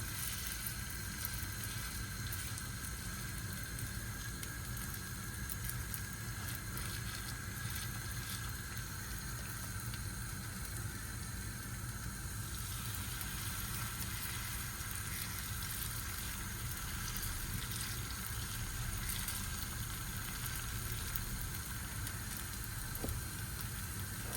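Spoonfuls of batter fry in a pan of mixed olive oil and vegetable oil, giving a steady, dense crackling sizzle that holds evenly throughout, close and moderately loud with no talk.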